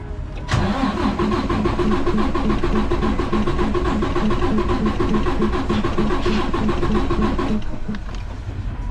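A Detroit DD15 diesel truck engine with bad compression cranks on the starter during a compression test, giving a loud, even chugging rhythm for about seven seconds that stops without the engine catching.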